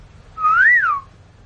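A person whistles one clear tonal note that rises and then falls, lasting just over half a second, up close with no talking.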